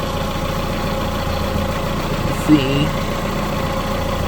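A car engine idles steadily after being revved while its ignition timing is checked, a constant low hum with a brief bump near the middle and a short spoken word over it.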